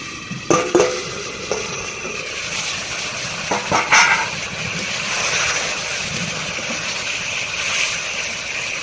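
Pointed gourd and potato curry being stirred in a pan in a village kitchen, with a few brief scraping strokes near the start and around four seconds over a steady sizzling hiss.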